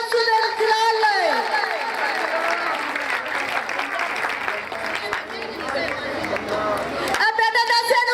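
Loud, sustained applause and crowd noise at a church revival meeting in Pakistan, dense clapping with babble of voices running throughout, swelling again at the end.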